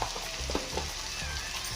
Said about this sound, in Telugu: సో ఫ్రై అవనిద్దాం కొంచెం సేపు